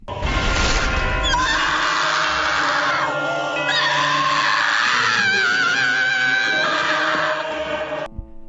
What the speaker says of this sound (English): Armin Scream from the series Attack on Titan was voted as best ringtone of 2015